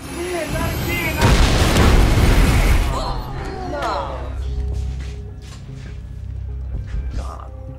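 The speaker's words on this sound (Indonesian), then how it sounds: "sebelum pada akhirnya ledakan pun terjadi" A loud, sustained bomb blast erupts with a broad roar, then decays into rumbling debris and crackling, with some faint voices afterward.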